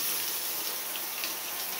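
Water from a shower runs steadily in a house, a constant bright hiss of spray with no pauses and no voices.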